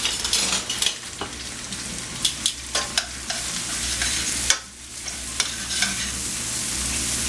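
Food cooking down in a pan for a stuffed pig dish sizzles steadily as metal tongs stir and scrape through it, with clinks and scuffs recurring every second or so against a constant frying hiss.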